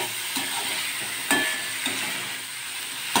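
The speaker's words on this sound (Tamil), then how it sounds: "இப்போ இஞ்சியும் கத்திரிக்காயும் எண்ணெயிலேயே கொஞ்சம் நேரம் வதங்கிடுச்சு" Ginger and brinjal sauté in hot oil, a steady, fairly close sizzle broken by a few soft stirring scrapes, with no voices.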